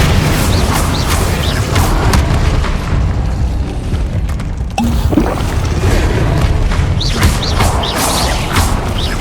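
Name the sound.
Incendio fire spell in video game Hogwarts Legacy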